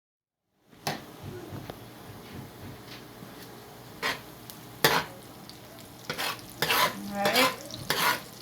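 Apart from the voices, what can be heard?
onions frying and being stirred in bacon grease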